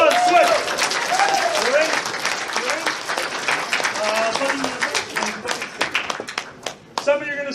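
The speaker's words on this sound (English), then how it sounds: "Guys, give them a round of applause." Audience applause at a charity improv comedy show at a furry convention swells loudly, then thins into scattered claps and fades, with voices chattering over it near the end.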